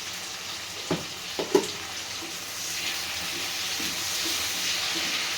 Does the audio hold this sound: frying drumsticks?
yes